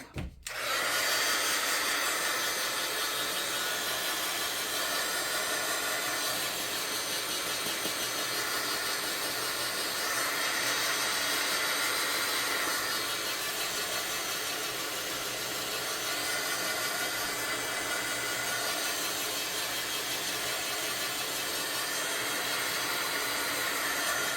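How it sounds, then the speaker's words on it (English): A heat tool blows hot air steadily to dry mixed media bookmarks, giving a loud, continuous whirring hiss that runs unbroken for the whole stretch with no talking. "you can hit it with a little bit of heat"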